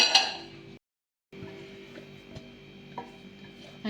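Parsley, garlic and olives are chopped by hand with a knife on a board. Crisp, sparse taps and clinks ring out, close and fairly quiet, with a brief silent pause.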